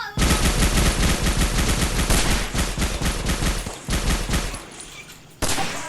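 Loud, rapid bursts of machine gun fire in a Minecraft game rattle almost continuously, then stop abruptly before one more short burst.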